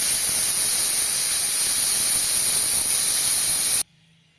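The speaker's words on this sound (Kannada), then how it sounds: "1 ವಿಸಿಲ್ ಬಂದರೆ ಸಾಕು." A pressure cooker making coriander rice vents steam in a loud, continuous high hiss that holds steady for a few seconds, then cuts off abruptly into near silence.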